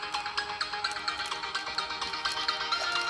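A Samsung Galaxy A52s plays a ringtone through its stereo speakers, a bright repeating melodic pattern of quick pulsing tones that stays steady and fairly loud throughout.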